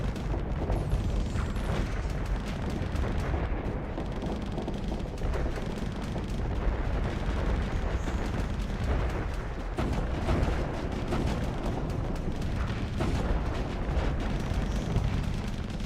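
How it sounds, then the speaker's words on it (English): Long-range artillery fire in the space combat game Starsector, a dense, continuous roar of overlapping booms and rumbling blasts at constant loudness, with no pauses and no voices. "Kinda like it for the long range artillery"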